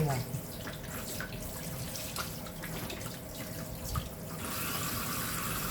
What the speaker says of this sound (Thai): อันนี้คือวิธีการล้าง ทำความสะอาดเนื้อสัตว์ที่เราซื้อมานะคะ